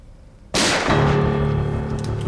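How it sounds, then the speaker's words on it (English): A single sharp burst of gunfire in a drama scene, a sudden loud crack with a sustained noisy decay echoing for about two seconds, no talk. "Gunfire."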